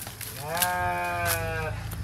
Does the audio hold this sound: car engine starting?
no